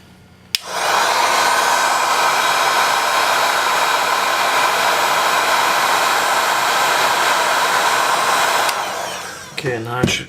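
A heat gun blows hot air onto the back glass of a Google Pixel 2 during a glass replacement, a loud steady whoosh that switches on, runs evenly, then cuts off.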